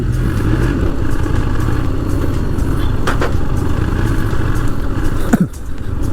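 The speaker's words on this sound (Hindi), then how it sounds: "450 सीसी की गाड़ी है भाई।" A 450cc motorcycle rides through Bangalore traffic, its mid-pitched engine droning steadily up close with road and wind rush, a brief clatter and a short dip in level near the end.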